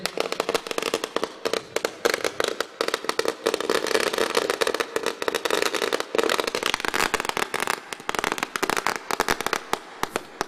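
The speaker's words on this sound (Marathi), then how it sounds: "फटाक्यांची आतिषबाजी" Firecrackers and fireworks burst in dense, rapid crackling volleys at a village fair cricket tournament, loud and continuous throughout with no pause.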